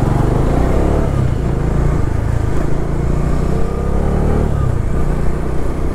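A motorcycle rides along a road with a loud, constant engine drone and rushing wind buffeting the microphone, steady throughout without pauses.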